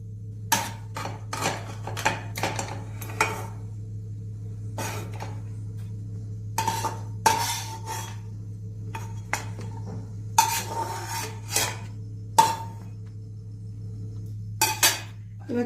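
Metal utensils clink and scrape in scattered, quiet bursts as fried cashews are strained out of oil during Bengali pulao preparation, with no talking.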